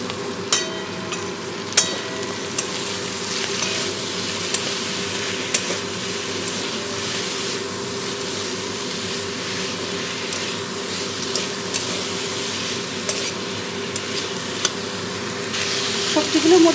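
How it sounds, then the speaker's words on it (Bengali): Mixed vegetables fry in a pan for a prawn and fenugreek leaf curry, giving a steady close sizzle with intermittent stirring scrapes and light knocks of a spatula. "ভালো করে সমস্ত সবজি ভেজে নেব।"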